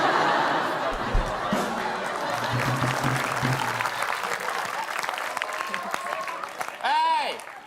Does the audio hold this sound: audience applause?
yes